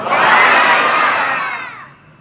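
Large crowd at a Mawlid conference in Dhadar voicing Subhan Allah aloud together, a loud unified swell of voices that holds for about two seconds and then tapers off.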